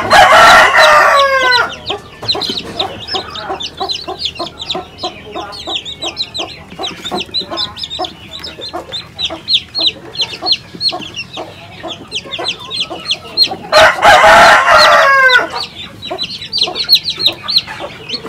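A hen clucks steadily among her chicks on a rural Philippine farm while the chicks peep constantly; a rooster crows loudly twice, near the start and again in the middle.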